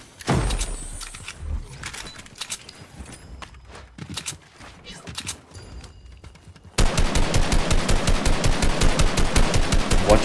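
Rapid video game gunfire in Fortnite BedWars: scattered shots and clattering hits at first, then a loud, steady burst of evenly spaced automatic fire running to the end.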